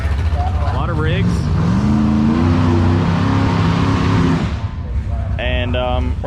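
Drag-racing cars idle and rev with a loud, droning engine tone at a crowded Bradenton drag strip on run day. A voice talks over the engines throughout.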